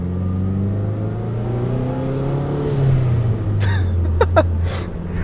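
A turbocharged Mazdaspeed 3 fitted with a blow off valve revs up from a close engine drone, then lets out a few short, sharp hissing vents as the throttle lifts.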